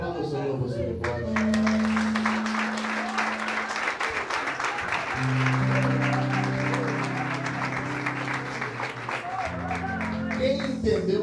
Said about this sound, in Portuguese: Aplauda o Senhor, você que pode